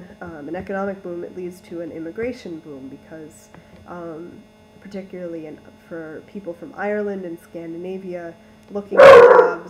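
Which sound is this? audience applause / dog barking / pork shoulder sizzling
dog barking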